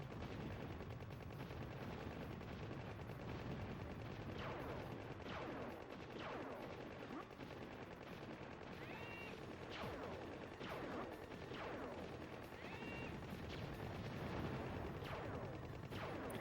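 Video-game gunfire from C: The Contra Adventure comes as rapid, repeated shots over a dense, loud backdrop of continuous battle noise, with bursts recurring throughout.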